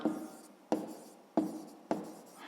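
Pen strokes on paper while working a sixth-grade maths exercise, four short scratchy bursts repeating in a steady rhythm, close and quiet with no voices.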